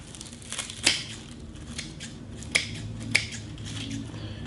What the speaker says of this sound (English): The next step is to trim off the ends and also trim off the excess from where you tied it.